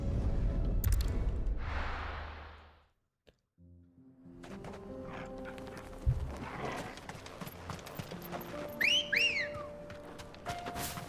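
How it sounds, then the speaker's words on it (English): Final Fantasy XVI gameplay: hooves clip-clop and a short two-note whistle sounds near the end, a bright rising call over in-game ambience and music. "Why is that the whistle noise?"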